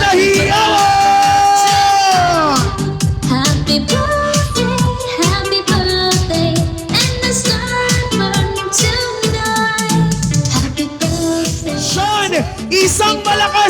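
A crowd at an 80th birthday party cheers, whoops and yells loudly and continuously, the voices dense and overlapping and full of tonal shouts.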